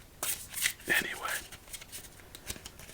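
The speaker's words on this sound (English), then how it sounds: "let's give this one more shuffle" A thick deck of Raven playing cards is shuffled for solitaire, close and soft, with a riffle burst followed by lighter card slides and taps.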